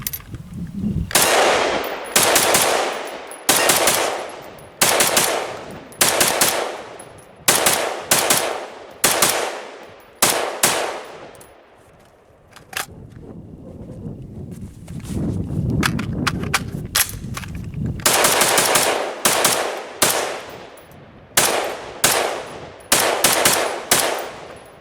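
Steyr AUG rifle with upgraded parts firing outdoors, loud sharp shots in quick strings and spaced volleys, with a pause midway during a magazine change before shooting resumes.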